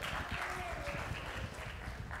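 A church congregation claps in a steady, dense round of applause that sounds fairly soft and distant and fills the whole stretch.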